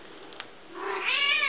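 A single house cat gives a rising, drawn-out meow in a quiet room. It is soft at first and grows louder toward the end.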